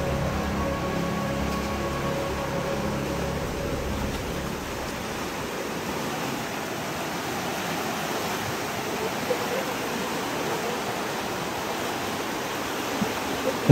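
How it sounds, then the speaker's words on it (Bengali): A hill stream flowing along the trail from Thanchi toward Nafakhum by the Sangu River: a steady, even rush of running water throughout, moderately close with no voices. "ঝিরির পানি অনেক।"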